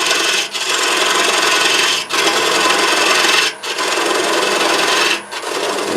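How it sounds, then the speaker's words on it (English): A 1/4 inch spindle gouge cuts a wood tenon on a spinning lathe with a loud, steady rasping scrape, broken by three brief pauses as the tool lifts off and re-engages. "I'm going to use just a 1/4 inch spindle gouge. And come in here and start cutting the tenon off."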